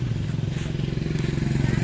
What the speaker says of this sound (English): This is called a bentor, which is the main mode of transportation.